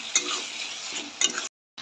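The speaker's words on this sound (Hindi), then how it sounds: "जो मेरे हरे मटर थे वो भी डालकर फ्राई कर लेते हैं 1 मिनट" Green peas fry in oil with masala for aloo matar dum, a close, steady sizzle with a couple of sharp spoon clinks, and it cuts out briefly near the end.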